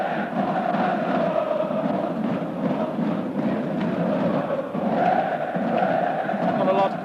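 A fanatical football crowd in a stadium at a 1993 Galatasaray versus Manchester United match, a dense continuous roar and chanting that holds steady throughout with a swell near the end, with commentary voices over it.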